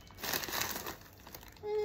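A large gift bag crinkles as it is opened, with a dense burst of papery rustling that fades to softer crackles, close to the listener.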